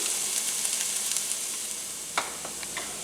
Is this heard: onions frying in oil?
yes